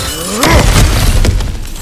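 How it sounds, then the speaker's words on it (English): Objects smashing in God of War Ragnarok: a loud breaking crash with shattering debris, followed by a second, smaller crunch as pieces scatter, close and alone. "Back to smashing through things for fun and profit."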